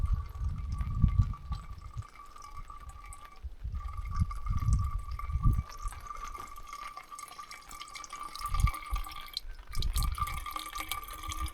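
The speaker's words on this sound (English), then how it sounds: "Just filtering some water for drinking for tomorrow." Lake water trickling and dripping as it is filtered for drinking on a solo canoe trip at Lake Rogen in Sweden, with soft repeated splashes and a steady faint tone behind, and no talking.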